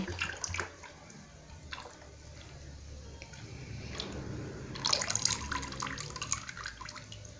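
Liquid caustic soda poured slowly into a basin while making soap from used cooking oil, a soft continuous trickle and splash that swells louder near the end, close and quiet.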